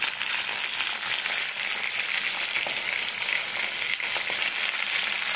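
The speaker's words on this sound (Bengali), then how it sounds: "দেখো একটু সুন্দর করে ভাজবো।" Meat frying in a pan with spices, ginger-garlic paste and onion, giving a loud, steady close sizzle with occasional stirring scrapes and no voices.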